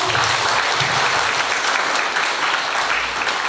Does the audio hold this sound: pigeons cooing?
no